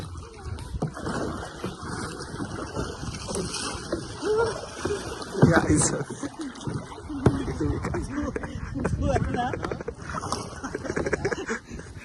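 A small boat moves across open water, with continuous splashing, paddle-like sloshes and wind buffeting the microphone while people talk throughout.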